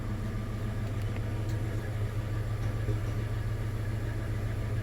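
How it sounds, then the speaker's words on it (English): Steady, low rumbling idle from a car engine and its exhaust, continuous and fairly loud at close range with no talk. "This is the exhaust."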